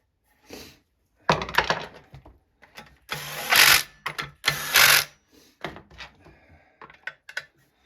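A Makita power driver drives screws into a Stihl MS 201T chainsaw cylinder head in short, close whirring bursts with pauses between, the motor winding up and cutting off several times.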